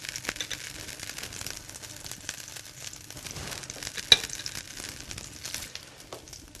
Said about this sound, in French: Dans une poêle assez chaude, nous allons mettre les girolles